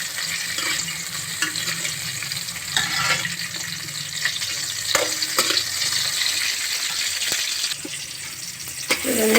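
Tomatoes frying and softening in a pan, a steady broadband sizzle running throughout with occasional stirring scrapes and clinks, close and moderately loud, no talking.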